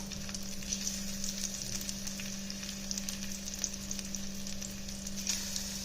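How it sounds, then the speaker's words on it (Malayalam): Banana pieces deep-frying in hot oil for a snack, a steady close bubbling sizzle with soft crackles and a low constant hum beneath, with no voices. "അതിന്റെ കൂട്ടത്തിൽ തന്നെ നമ്മുടെ പഴവും കൂടി ഒന്ന് വറുത്തെടുക്കാം"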